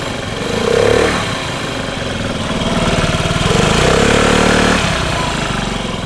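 A 2014 Honda Ruckus scooter with an automatic transmission idles loudly up close, its small engine putting out a steady throb that swells briefly around one second and again between three and five seconds.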